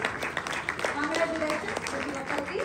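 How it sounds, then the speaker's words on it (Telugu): Crowd of club members clapping together at a Women's Day and weight-loss celebration, a dense steady patter of hands with voices chattering underneath throughout. "క్లాప్స్ కొడదాం."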